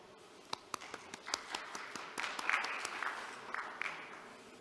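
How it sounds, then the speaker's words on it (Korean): An audience at an academic conference session on Arctic shipping route research applauds to welcome the session chair, a steady wash of clapping with a few sharp, close claps standing out. "박수로 환영해 주십시오."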